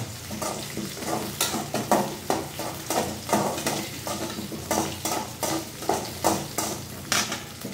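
Ingredients fry in a pan while a utensil stirs and scrapes them in steady, rhythmic strokes roughly twice a second, over a soft continuous sizzle, close up and with no voices.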